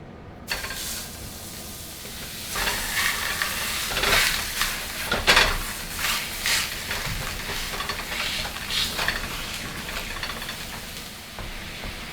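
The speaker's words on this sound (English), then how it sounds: "That's been frying about 4 minutes." Meat fries in a number 10 Lodge cast iron skillet at around 350 degrees, making a steady, moderate sizzle and hiss with scattered louder crackles and a few faint scrapes, close by and free of talk.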